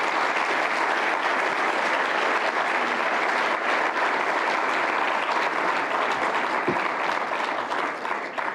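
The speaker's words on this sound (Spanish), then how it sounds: "Démosles un fuerte aplauso, por favor" A forum audience gives sustained applause, a dense, even clapping that fills the room for several seconds and thins slightly at the end. No voices break through.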